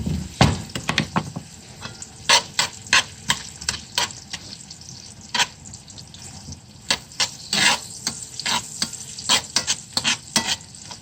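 Purple onion frying in butter and oil sizzles loudly and steadily, broken by frequent sharp scraping stirs and clinks of a utensil against the pan, with no voices.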